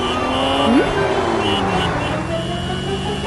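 A car being driven, its engine a steady, close drone that holds evenly throughout with no pauses or passes.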